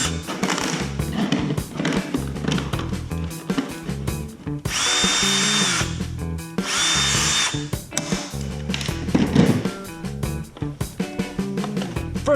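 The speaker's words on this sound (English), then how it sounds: "So let's drill some holes and do that." Power drill boring holes into a plastic hopper on a modified toy foam blaster, heard as repeated loud whirring bursts of varying length with two longer sustained runs, close up and without speech.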